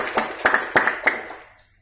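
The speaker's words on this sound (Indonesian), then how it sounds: "Tepuk tangan untuk Prudential." A small audience at a Prudential insurance agents' talk claps briefly, a few sparse sharp claps in loose rhythm that fade out within two seconds.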